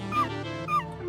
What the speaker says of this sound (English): No, not a kitty, that's a dog.